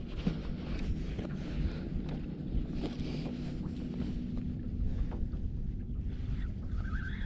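A boat's trolling motor runs on the water with a low steady electric hum, partly buried under gusty wind noise and splashing.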